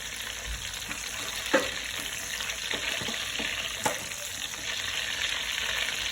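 Whole spices such as cardamom, cinnamon and cloves frying in hot mustard oil while making a deshi chicken bhuna, giving a steady, close sizzle with a few sharp pops and scrapes and no talk.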